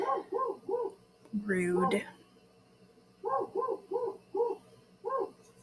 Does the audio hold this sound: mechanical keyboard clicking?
no